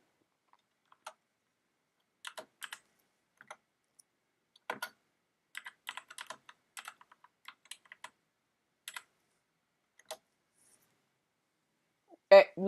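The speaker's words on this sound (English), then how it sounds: "I'm gonna type it to you, Mayo." Sparse, faint clicking from a computer keyboard as someone types in short irregular bursts with quiet pauses between them, ending in a louder knock.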